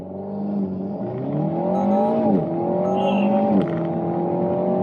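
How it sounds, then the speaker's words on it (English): An Alpine A110S in track mode accelerates hard as its Getrag 7-speed gearbox fires through fast, thumping upshifts, the engine tone climbing then dropping sharply twice, loud and close, with a brief exclamation from a person inside. "In track mode, the fast shift of this Getrag 7-speed actually is really intense. It thumps through the gears."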